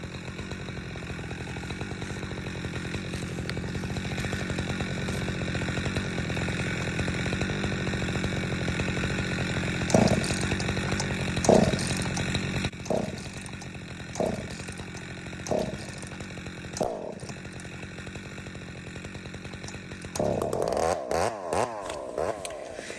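A chainsaw fitted with a 24-inch bar runs steadily and loudly through wood, its drone broken midway by a series of sharp revving surges before the engine settles back near the end.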